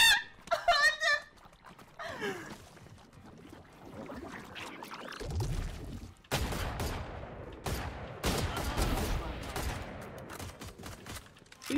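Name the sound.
shotgun gunfire in the video game Valorant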